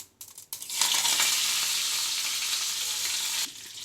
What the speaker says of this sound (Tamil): கடுகு நல்லா பொரிஞ்சு வரணும்